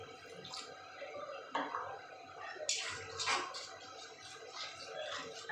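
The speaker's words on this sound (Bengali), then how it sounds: "একটু গরম জল দিয়ে দিলাম।" Hot water poured into curry gravy in a pan sloshes and splashes briefly, a soft close pour over faint background kitchen noise.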